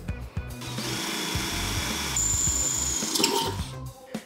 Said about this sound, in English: start drilling these, we'll give it a little spritz of oil